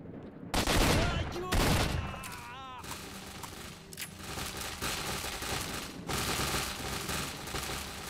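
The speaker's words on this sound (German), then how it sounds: "Damit für Close Quarters verwende ich jetzt mal die Shotgun ein bisschen." Shotgun blasts in S.T.A.L.K.E.R.: Shadow of Chornobyl, loud close-quarters shots with sharp onsets, followed by dense sustained gunfire and game sound under an ongoing voice.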